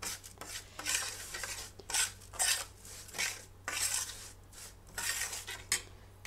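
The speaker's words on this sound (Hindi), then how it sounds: "ये हमारे चम्मच से मिक्स होगा।" A spoon stirs a homemade sada achar mixture of pickle ingredients with olive oil in a bowl, giving repeated scraping, clinking strokes in an irregular rhythm, close and moderately loud, with no talk.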